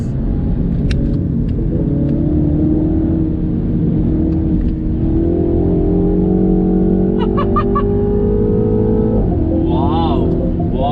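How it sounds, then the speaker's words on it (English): A 231 hp Mini Cooper S JCW pulls with a throaty exhaust note that climbs steadily as the revs build, then drops sharply near the end, loud and up close. "The exhaust note is pure bliss."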